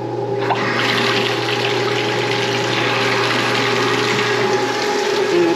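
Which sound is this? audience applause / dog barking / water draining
water draining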